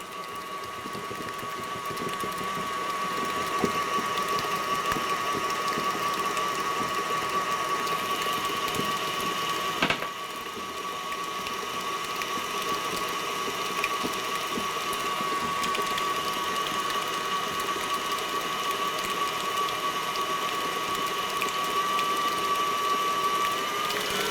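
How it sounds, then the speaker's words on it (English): An electric mixer beats Dobos torte frosting until it cools, giving a continuous mechanical whirring hum with a steady motor whine. It runs close and unbroken, with one brief clunk partway through and no voices. "we're just going to mix this up, beating it until it's all completely cooled off."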